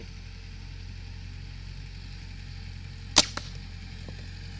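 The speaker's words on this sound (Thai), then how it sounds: "อาจจะมีเสียงรบกวนนิดนึงนะพอดี พ่อแกเขาขับรถไถ" A low tractor engine hums steadily in the background throughout, with a single sharp crack and a smaller snap near the end.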